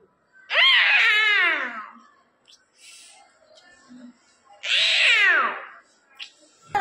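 A fifth-grade boy mimics fighting tomcats with two long, loud, wavering yowls separated by a quiet pause, with faint background voices between them.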